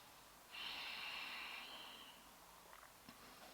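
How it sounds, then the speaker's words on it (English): A slow exhale during a yoga stretch: a soft, airy breath lasting over a second, faint and close, with no talking over it. "breathing out."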